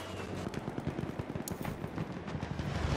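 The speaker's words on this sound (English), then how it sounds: "Where's that shot coming from?" Automatic gunfire from Battlefield 1 rattles in a rapid, dense stream of shots, fairly steady and mid-distance, with a sharper crack standing out partway through.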